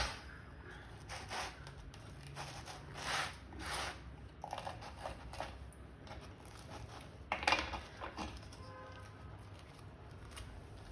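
Knife or utensil cutting through a stuffed egg paratha on a plate, a series of scraping, clinking strokes with soft crunchy bursts, close and fairly quiet.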